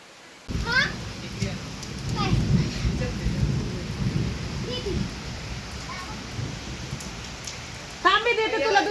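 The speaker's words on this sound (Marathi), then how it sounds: "पाऊसच पाऊस डायरेक्ट डेंजर पाऊस आहे." Heavy rain pours down steadily with rumbles of thunder, and voices speak briefly at the start and again near the end.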